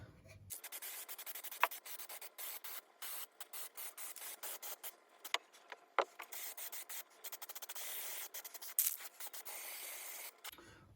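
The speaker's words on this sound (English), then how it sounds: "a little bit of light sanding" Light sanding on wood: quick, repeated scratchy rubbing strokes in an uneven rhythm, close by, with a few sharper scrapes.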